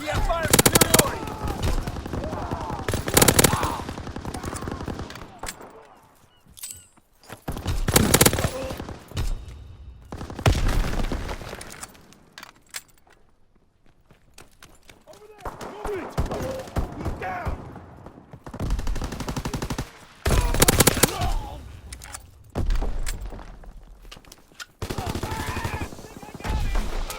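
Bursts of machine gun fire and rifle shots ring out in a Call of Duty WWII match, loud and repeated in rapid volleys separated by brief lulls, with in-game voices calling out between the firing.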